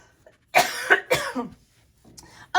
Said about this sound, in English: I just still cannot get rid of that cough.